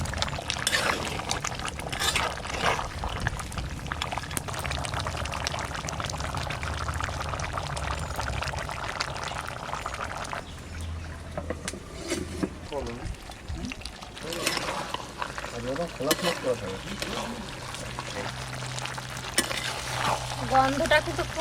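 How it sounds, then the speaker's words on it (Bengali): Mutton kosha is stirred in a pot while it cooks slowly over low heat. It makes a continuous close sizzle with wet stirring and scraping, and a person talks over it in places. "এখন আমি একটু নাড়াচাড়া দিই।"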